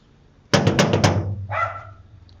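A dog barks once or twice at a house door during a comedy skit, just after a burst of loud, sharp knocking; no talk.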